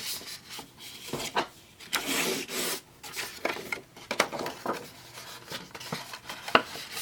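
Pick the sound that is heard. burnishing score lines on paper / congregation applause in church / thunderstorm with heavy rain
burnishing score lines on paper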